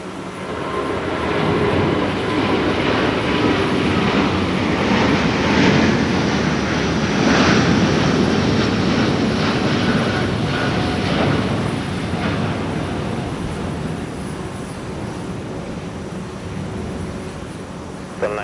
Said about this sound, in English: Sweet mother of Airbus, that thing really got airborne quick.